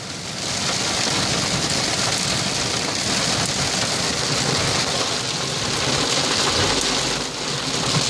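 Heavy monsoon rain pours steadily on Mount Baldy, a dense, loud, continuous hiss of water drumming on surfaces close by, with no voices.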